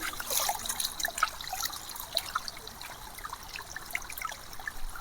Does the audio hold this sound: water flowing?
yes